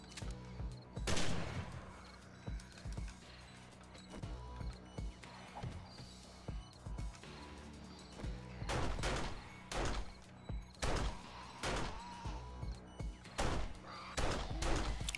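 Gunfire rings out in the survival game 7 Days to Die, with repeated sharp shots coming in bursts and single cracks that turn more frequent and clustered toward the end, over low background sounds.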